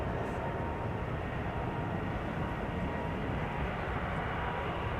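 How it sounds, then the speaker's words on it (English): A KLM Boeing 777-300ER bound for Johannesburg spools up its jet engines at Amsterdam Schiphol, a constant dense roar holding steady at moderate distance without break. "that is a 777 spooling up, coming our way, going to Johannesburg"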